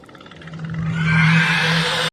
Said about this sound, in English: trees start screaming